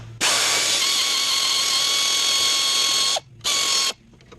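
A ratchet loosens half-inch bolts on the water jacket of a 1958 John Deere 420 tractor during restoration, giving a loud, fast, steady clicking burst of about three seconds, then a short pause and a second brief burst.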